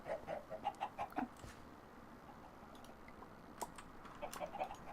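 Gold chickens in the modded Minecraft game Sky Factory 3 cluck in a quick run of short pecking calls, then a few more clucks near the end over faint background noise.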